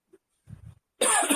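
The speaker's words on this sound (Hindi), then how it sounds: "मुझे खांसी भी हल्की सी आ जाती है" Two soft, close coughs, followed by a louder, harsher burst of coughing near the end.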